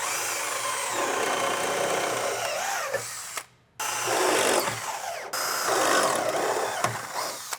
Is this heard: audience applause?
no